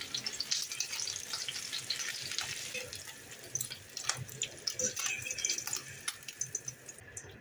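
Meat patties fry in a pan with a steady crackling sizzle and sharp spitting pops close by that grow more pronounced toward the end.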